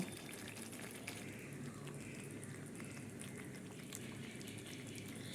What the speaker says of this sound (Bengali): এরপর আমি অল্প পরিমাণ জল দিয়ে দেব।